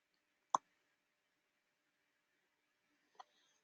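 Two crisp, isolated clicks from a computer mouse during Photoshop work, roughly two and a half seconds apart, close and quiet against near silence.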